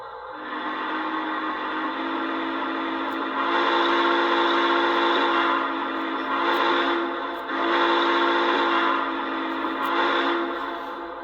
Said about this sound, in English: The whistle on this thing is just aggressive.